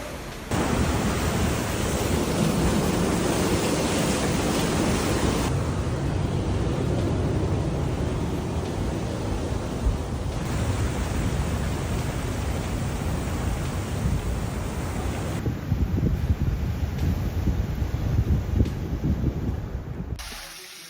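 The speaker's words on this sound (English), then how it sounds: "The moment powerful waves disrupted traffic at St. Julian's Bay" Powerful ocean waves crash at St. Julian's Bay during a storm, a continuous, loud, broadband roar of surf with gusting wind and no talk.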